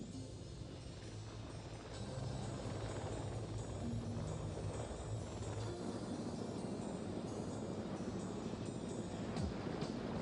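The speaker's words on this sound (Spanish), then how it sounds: "reciben apoyo de los Puma, los helicópteros de asalto del ejército francés" French Army Puma assault helicopters fly during an airborne assault, their rotors making a continuous, dense thudding drone that holds steady throughout, fairly distant and with no voices.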